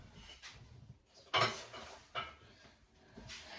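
A pan is set down in a tiny kitchen, giving one sharp metallic clatter followed by a lighter knock amid faint handling rustles, quiet and close.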